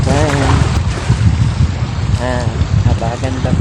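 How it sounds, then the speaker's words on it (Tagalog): Strong wind at Cayucyucan Beach in Mercedes, Camarines Norte roars and buffets the microphone continuously, loud and close, while someone talks over it. "Napakalakas ng hangin"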